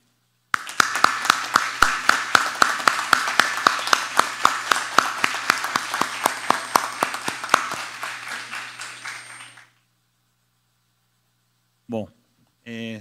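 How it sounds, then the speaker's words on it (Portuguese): A crowd applauds for about nine seconds at a city council session in Paulínia, Brazil, a dense run of claps with sharp individual hits, then stops; a couple of short voice bursts follow. "Gostaria de uma salva de palmas"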